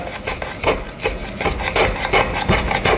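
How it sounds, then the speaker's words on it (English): Old grip tape is scraped off a golf club shaft in quick repeated rasping strokes, close and fairly loud, with no talking. "We can scrape it off."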